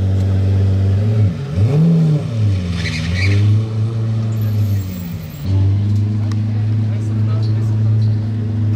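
A powerful sports car engine revs and accelerates close by on a Monaco street, its deep note sweeping up and down, with people talking over it.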